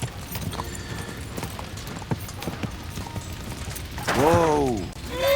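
Horse hooves clip-clop steadily through the game world of Kingdom Come Deliverance II, a rhythmic trot under faint mechanical ticking, ending with a loud neigh from the horse near the close.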